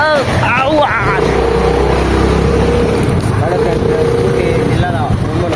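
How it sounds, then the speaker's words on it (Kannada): A Honda Activa scooter riding along a road gives a steady engine drone and wind rumble that run throughout, while people talk over it. "ಸ್ಕೂಟರ್ ಅಂದರೆ ಆ್ಯಕ್ಟಿವಾ"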